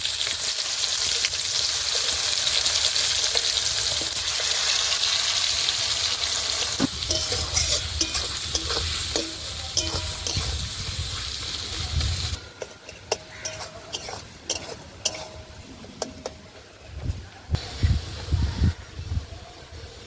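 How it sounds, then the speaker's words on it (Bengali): Chopped onions fry in hot oil with bay leaf, whole cumin and dried red chilli in rustic village-style cooking, giving a steady loud sizzle with stirring scrapes and clinks that grow more broken and clattery later. "এবার দিয়ে দেব কেটে রাখা পেঁয়াজ"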